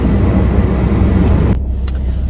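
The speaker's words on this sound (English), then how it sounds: "the car is not really warmed up yet" A car engine idles while not yet warmed up, giving a close, loud, steady rumble that drops off sharply about two-thirds through, followed by a few faint clicks.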